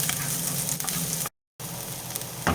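Onions frying in a pan over medium heat, a steady close sizzle with crackling that cuts out briefly for a moment of silence, then resumes at the same level.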